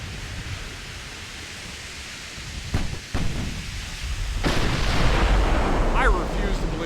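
Warship guns fire during a naval battle in the game Ultimate Admiral Dreadnoughts: a dense, rumbling wash of noise with a couple of heavier blasts midway, then a louder sustained roar.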